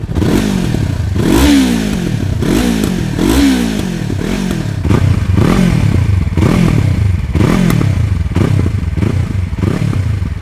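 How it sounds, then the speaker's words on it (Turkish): A Yamaha R3 motorcycle with an aftermarket Akrapovic exhaust revs repeatedly up close, loud throaty bursts rising and falling in a steady rhythm with rattly exhaust crackle between them. "Ve evet Arkopovic sesi çok güzel. Şimdi sana hemen onu dinleteceğim."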